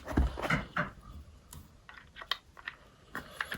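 A few sharp button clicks on a Tramex moisture meter used for checking wooden flooring, close and fairly quiet, spaced irregularly.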